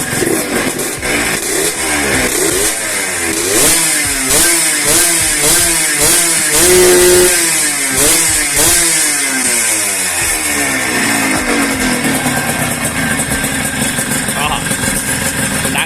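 A Yamaha RXZ135 two-stroke motorcycle is revved hard and repeatedly, its loud, buzzing engine climbing and falling in quick blips close to the listener, with someone talking over it.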